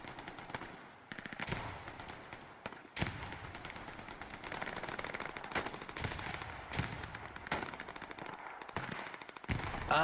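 Gunfire in the World War II game Hell Let Loose, with dense rattling machine-gun bursts and single loud shots crackling continuously near and far across a busy battlefield, no talking.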